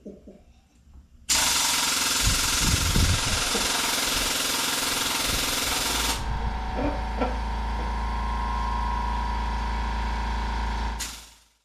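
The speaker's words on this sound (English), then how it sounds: "we have a pneumatic grease gun" A pneumatic grease gun forcing a brass cover plate for a resonator guitar, a loud sustained hammering rattle with a deep droning hum that cuts off abruptly.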